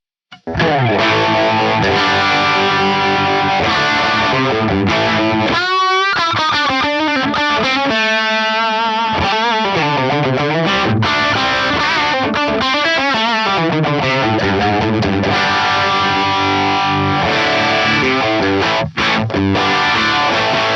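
A Korg AX1500G multi-effects pedal plays electric guitar chords through gritty distortion with a wavering chorus shimmer, loud and sustained, with a short pause and a few ringing single notes.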